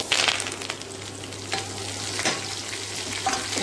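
Mustard seeds, urad dal, onion and curry leaves sizzle and crackle in hot oil for a mutton bone gravy. A steady, close frying hiss runs throughout, with a few sharper pops and stirring clicks and no voices.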